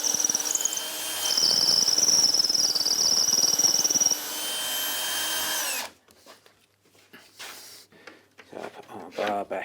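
A cordless drill whirs steadily at close range for several seconds during work on a folding wooden camping table, then stops, followed by faint workshop handling noises and short bursts of activity.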